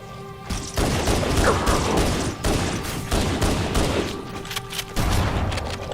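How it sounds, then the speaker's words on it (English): Rapid gunfire from a pistol in Halo Anniversary rattles out in loud repeated bursts over several seconds, with brief gaps between volleys. "You can either shoot them with the pistol or just draw them out with some pistol fire"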